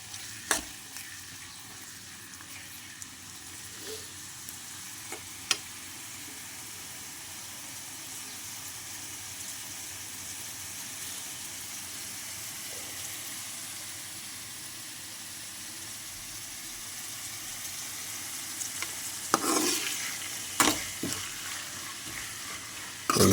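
Onions and green chillies deep fry in oil in a pan for chicken kurma, giving a steady soft hiss of sizzling throughout, with occasional sharp clicks of a spoon stirring, louder near the end, no speech.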